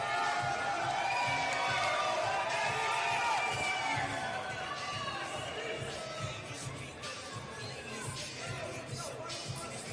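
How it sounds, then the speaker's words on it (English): Arena crowd roaring and cheering in a standing ovation for a boxer at a Canelo vs Crawford media workout, a dense sustained wall of voices and whoops, loudest early and easing slightly toward the end. "Y'all seen the standing ovation he just got"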